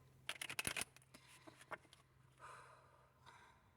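Soft riffling and flicking of tarot cards in a quick burst near the start, then quieter shuffling and sliding; close and fairly faint, with no talk.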